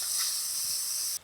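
Ground roasted-mango curry mixture hitting a hot frying pan, a loud, steady hiss that holds for about a second, then cuts off abruptly.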